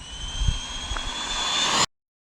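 Traxxas Slash RC car at wide open throttle, a rising high-pitched electric motor whine that builds steadily for under two seconds before cutting off abruptly.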